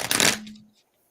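Deck of cards riffle-shuffled once close by, a quick bright papery flutter that fades into silence within the first moment.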